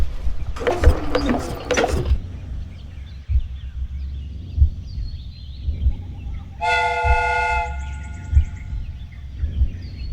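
Steam whistle on a replica train in a Sherlock Holmes video game gives one loud, harmonic blast over rhythmic mechanical chugging and clanks, after an earlier burst of hissing steam.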